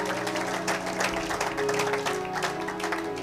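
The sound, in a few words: congregation applauding in church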